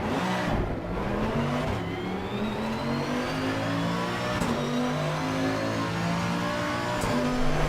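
GT2 race car engine in a racing video game, revving hard and climbing through gears with rising whine, continuous and close, no voices.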